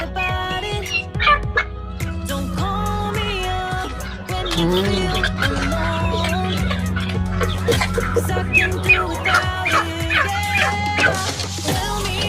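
A turkey gobbles among a busy mix of clucking poultry and other farm birds, with a dog barking and people talking in the background.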